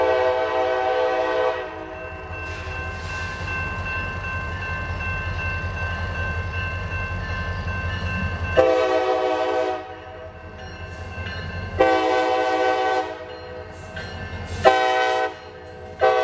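A CSX freight train rumbles past up close on the Saginaw Subdivision, its deep engine drone steady, with a few sharp bursts of wheel and car noise near the end.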